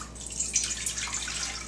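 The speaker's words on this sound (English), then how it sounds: "So simply pouring in 2 cups of water, and we'll bring that to a boil." Water poured from a vessel into a pot to make tea, a steady close splashing trickle with a bright hiss, alone without talk.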